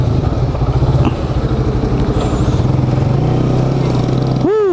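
Steady motorcycle engine drone from a cousin's bike on a ride to a bus terminal, loud and continuous throughout, with a horn-like tone rising at the very end.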